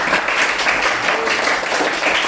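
Audience clapping for a presenting group in a classroom, a short steady burst of applause at moderate loudness with no voices over it.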